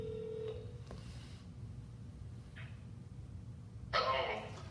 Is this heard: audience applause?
no